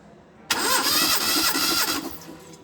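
Car engine cranked by its starter during a compression test with a gauge fitted in a spark plug hole, a loud, steady churning whir of about one and a half seconds that starts abruptly and then cuts off.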